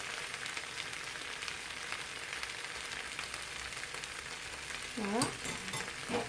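Tomatoes and a spoonful of tomato paste sizzle steadily in a hot pan, a dense continuous frying hiss throughout, with a brief spoken word near the end.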